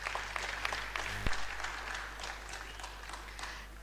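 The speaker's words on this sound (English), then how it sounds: "Please give her a round of applause." A university convocation audience claps in a steady round of applause for the Vice Chancellor, a dense, sustained patter of many hands filling the hall with no talk over it.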